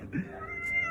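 A cat gives one short, fairly close meow, with faint background sounds behind it.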